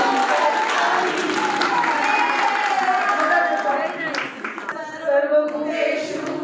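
Children clap together during a sung rhyme at a school art-integration training session, steady clapping mixed with voices singing and talking throughout.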